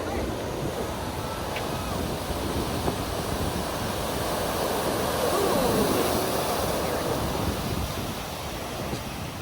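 Ocean surf at Huntington Beach rolls in as a continuous, loud wash of breaking waves mixed with wind buffeting the microphone.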